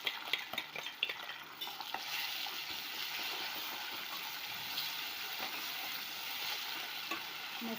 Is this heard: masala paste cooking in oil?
yes